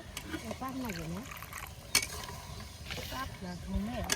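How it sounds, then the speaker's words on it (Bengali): Sauce of tomato ketchup and ground cashew and peanut paste with a little water being stirred and mixed by hand for a picnic biryani, giving soft intermittent scraping and sloshing, with a sharp clink and faint voices nearby. "ভালো করে একটু মিশিয়ে নই"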